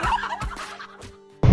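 Fowl at a provincial fiesta gives several loud, harsh gobbling and clucking calls in quick bursts, close by, with a sharp louder squawk at the end; no talk.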